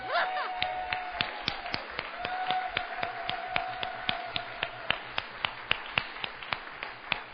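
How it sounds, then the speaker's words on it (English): A small group applauding at a church service, with sparse, crisp individual claps ringing out at a fairly steady pace over a quiet room, nearby and moderately loud. "We're not done applauding."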